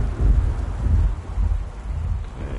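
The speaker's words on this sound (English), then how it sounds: "a little bit of lightning right at the right time" Thunder rolls through a storm in a video game, a loud, low rumble that swells and fades in waves over a rain-like wash.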